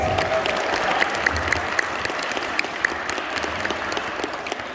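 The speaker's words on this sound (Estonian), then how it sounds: "teeme 7. klassile suure aplausi, et nad oleks valmis." Applause from an audience at a school Christmas show, a dense, steady wash of many hands clapping throughout, with a few sharper claps standing out and faint voices underneath.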